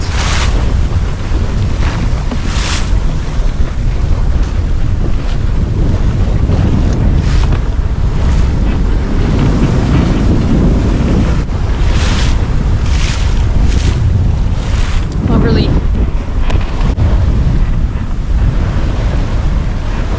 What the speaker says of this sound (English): So we've got 12 knots of wind today.